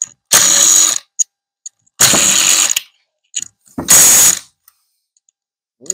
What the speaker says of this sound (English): now we're going to take off the clutch side here. Get all these bolts from all the way around.